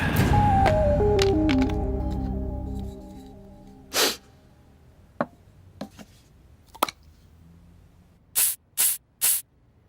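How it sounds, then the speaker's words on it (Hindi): A perfume spray bottle gives several short, sharp hissing bursts, first single spritzes then a quick run of three near the end, following a fading musical tone in a quiet room. "वो स्प्रे है पापा, स्प्रे। उसको सेंट बोलते हैं, लगाओ अच्छा लगेगा।"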